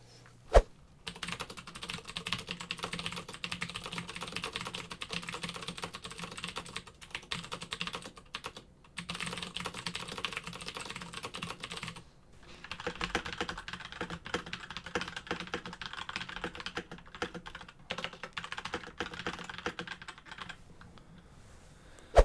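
Rapid, steady typing clatters on a computer keyboard during a noise test, the close keystrokes running in dense bursts separated by a few brief pauses.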